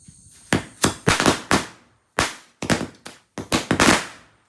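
Diwali firecrackers burst nearby at night in a village, a loud rapid string of sharp cracks that comes in clusters with short gaps between them.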